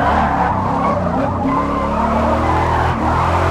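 A race car in Forza Motorsport snaps loose and slides, tires squealing and skidding loudly over a steady engine roar for several seconds, close and continuous, with no one talking.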